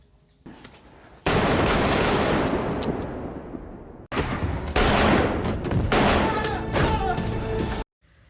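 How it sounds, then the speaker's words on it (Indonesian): Bursts of rapid pistol gunfire from the 2019 film Joker ring out loudly in two main volleys, dense and cracking, with a brief pause between them and an abrupt stop. "Arthur menembaki dan langsung membunuh ketiganya dengan pistol itu."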